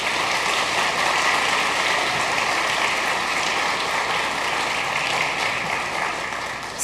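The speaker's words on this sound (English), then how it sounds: "we've given both the candidates an opening welcome by clapping" A large debate audience claps steadily for several seconds to welcome the candidates, a dense, even wash of applause with no voices over it.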